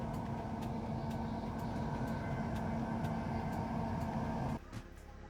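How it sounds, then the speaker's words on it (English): A night corridor train to Vienna from Brussels rumbles steadily with a low droning hum and faint periodic clicks from the track, then the noise drops off abruptly near the end. "We're on a corridor train, a night train to Vienna."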